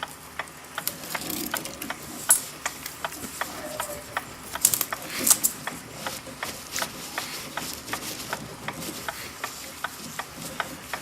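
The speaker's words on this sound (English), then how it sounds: "cleaning all the Kero, that's looking cleaner, all the Kero off" A rag wipes kerosene along the full length of a Gilbert kitchen clock mainspring, making steady close rubbing and swishing with a regular run of light metallic clicks. No one speaks.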